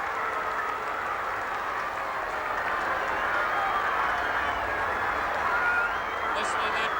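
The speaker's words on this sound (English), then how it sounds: "Listen to that crowd go mad." A football stadium crowd roars after a kick goes through the centre of the posts in an Australian rules match, a loud, sustained and broad wall of cheering and noise that holds steady throughout with no break.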